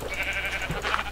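A sheep bleats in the Minecraft 1.9 swamp biome, a single wavering blocky game-animal call that is close and fairly clear against a steady background hum.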